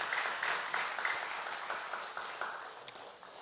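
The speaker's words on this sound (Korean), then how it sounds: "일단 박수부터 합시다." A church congregation at a Korean prayer service applauds together, a short burst of fairly soft, steady clapping in a large room that fades toward the end.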